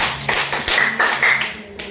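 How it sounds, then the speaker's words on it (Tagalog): A Grade 4 class claps together in a short rhythmic round of hand claps, close and fairly loud, with slightly ragged timing. "bigyan natin ng tatlong palakpak sa ating Christine"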